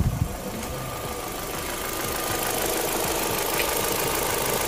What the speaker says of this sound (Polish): warto nawet to zrobić no dobrą godzinę, żeby ten silnik pochodził